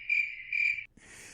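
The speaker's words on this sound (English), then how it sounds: "I had to do the cricket sound for myself." A cricket chirping sound effect plays two clear, high, evenly spaced trills close up, followed by a brief hissy tail, with no one talking.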